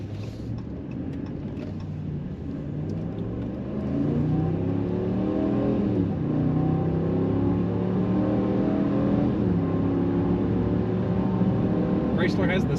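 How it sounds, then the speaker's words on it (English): A deep Hemi V8 engine in a 2022 Ram 1500 pickup rumbles and revs up, pitch rising and falling as it accelerates, loud and close, with faint speech underneath. "I love the sound of a Hemi."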